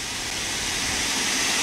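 Continuous, fairly soft hiss of steam from a steam locomotive in Train Sim World 2, a steady broadband rush with faint low rumble beneath.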